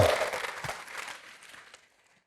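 A church congregation claps together in a burst of applause that gradually fades out over a couple of seconds.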